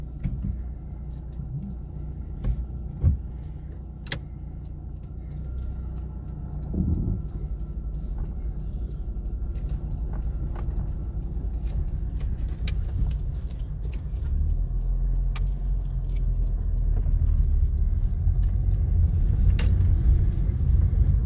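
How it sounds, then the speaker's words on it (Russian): A car pulls out of a parking space to the left during a driving lesson, its engine a steady low rumble from inside the cabin that slowly grows louder, with a few faint clicks and knocks. "Выезжаем с парковочного места в левую сторону."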